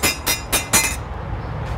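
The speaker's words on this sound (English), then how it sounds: "Bang on the window" Four quick, sharp bangs on a window glass in a fast run, fairly close, then a quieter trailing hum.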